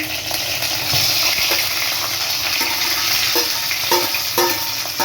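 Boiled potatoes tossed into hot oil with cumin seeds and bay leaf: a loud, close, continuous frying sizzle with bursts of stirring and spattering, no talking.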